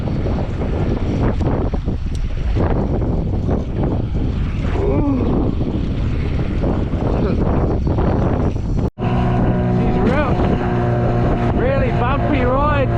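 A motorboat pounds along on a bumpy fishing trip, its engine droning loud and close with heavy wind buffeting throughout. The engine tone rises in pitch partway through.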